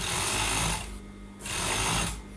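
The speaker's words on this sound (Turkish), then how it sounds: "Overlock'ta lastiğimizi kestirmeden dikiyoruz" An overlock sewing machine stitches elastic onto fabric for pyjamas in loud, fast mechanical bursts, running, pausing briefly, then running again, close up with no talk.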